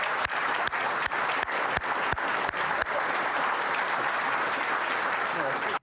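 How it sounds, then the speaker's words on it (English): A conference audience applauds for two leaders, dense steady clapping that runs the whole length, with a handful of loud, close individual claps in the first half and faint voices mixed in. "Please give these two leaders a big round of applause."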